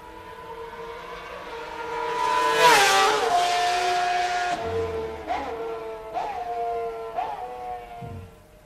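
A Honda RC166 racing motorcycle engine roars past, rising loud then fading, followed by several sharp downshift blips under engine braking as it slows into a corner, no voices.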